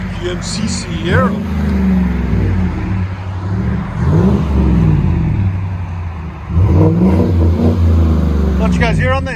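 Deep, close exhaust rumble from a GMC Sierra's 5.3L V8 rises and falls in repeated revs, the last one surging loudest, while a voice speaks briefly at the start and finish.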